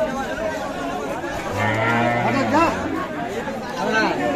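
Cattle at a rural cattle market, including cows with calves, give a long low moo that rises out of a busy background of people chattering and calling nearby.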